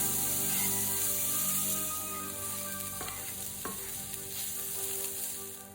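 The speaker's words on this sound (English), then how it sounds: "Now these are gonna go in a hot pan with some oil, salt and pepper." Shallots sizzle and fry in a hot pan of oil, a steady close crackling hiss with a couple of brief sharper stirring clicks partway through and no talk.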